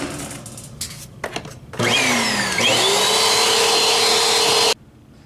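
Vacuum cleaner used on air conditioning grates and ceiling air returns, starting up after a few knocks and then running as a steady loud whine that rises in pitch and holds for about three seconds before cutting off.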